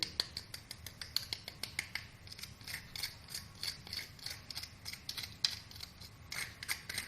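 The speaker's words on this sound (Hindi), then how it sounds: "आवाज़ सुने आप इसकी, कितना क्रिस्पी है ये" Crisp, rapid crunching and crackling of KFC-style crispy fried broast chicken, close and fairly quiet, in an irregular stream of sharp snaps.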